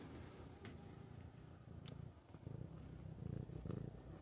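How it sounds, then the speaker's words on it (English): A young cat purrs close up, a soft, steady rumbling purr that swells slightly and carries on without break, with faint handling noises. "Can you hear him purring?"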